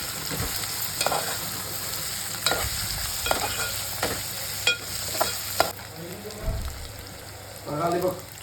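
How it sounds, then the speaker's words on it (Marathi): Clams in the shell are stir-fried in a pan, with a soft steady sizzle under scattered scraping and clacking of shells being turned, and a few muffled handling knocks, close by with no talking. "आता शिंपल्यांचा घर आपण टाकलेलं आहे शिजवण्यासाठी थोडं त्यांना आपण परतून घेऊ शिजवून घेऊ"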